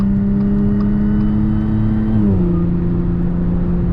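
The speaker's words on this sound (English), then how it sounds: "the exhaust as well is pretty loud." A supercharged Audi S4 engine hums at a steady low idle, dropping slightly in pitch partway through, with a constant, fairly loud exhaust drone.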